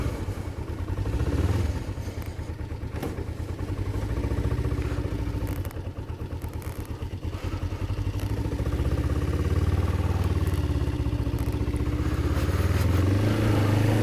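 A motorcycle rides out of a residential neighborhood on a foggy morning, its engine droning steadily and close throughout with some rattling clatter, rising and easing as it moves.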